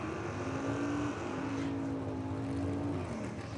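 Drag race cars roar toward the finish line at the ANRA Summer Nationals, a sustained loud engine drone with rising and falling pitch across a few seconds, no voices over it.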